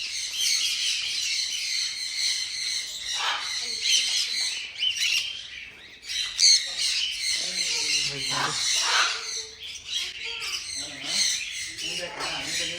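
A dense chorus of many birds squawking and chirping close by, bursts of sharp calls overlapping continuously, with a person speaking intermittently over them.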